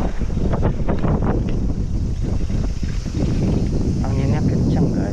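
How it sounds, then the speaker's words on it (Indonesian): Strong gusty wind buffets an outdoor mic on a summer day in Japan, roaring steadily with bursts, while a person talks over it. "anginnya kencang guys, kencang banget."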